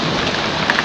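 Rain falls steadily on lush green grass, a dense loud hiss of drops filling the short stretch with no voices.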